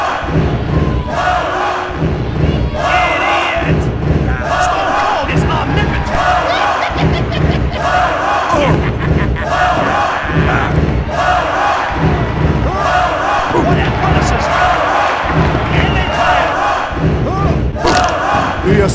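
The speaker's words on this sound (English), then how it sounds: "Listen to this crowd!" A large wrestling-arena crowd in the Sega Dreamcast game WWF Attitude roars and chants continuously, loud and dense, with rhythmic thuds and surges of cheering throughout.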